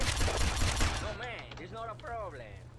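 Rapid gunfire crackles densely for about a second at a shooting gallery in GTA Vice City, then gives way to game character voices and background music.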